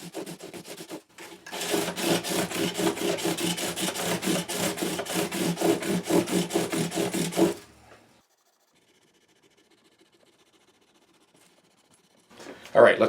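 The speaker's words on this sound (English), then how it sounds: "we'll give this area a little bit of a scrub again" Rapid back-and-forth scrubbing on a guitar's fret area after recrowning, a close, rhythmic run of short rubbing strokes lasting several seconds before stopping, followed by near silence and a brief bump at the end.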